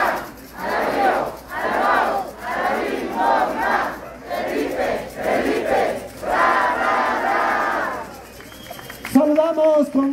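A large crowd at a municipal campaign launch rally in Jiquipilco chants a rhythmic campaign cheer in loud, repeated pulses, voices massed together and close, ending with a short burst of amplified sound.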